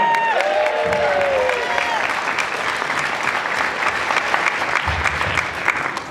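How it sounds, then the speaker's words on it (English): An audience claps and cheers in a dense, loud burst of applause that carries on without a break, while a voice talks briefly over it near the start. "Now cheer!"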